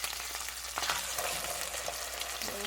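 Salisbury steak patties fry in a pan, giving a steady crackling sizzle that is quiet but continuous, with a few soft handling sounds and no talking.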